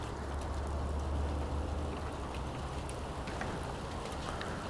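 Rain falls steadily in Florida, an even broadband hiss over a low rumble, with no break from start to finish.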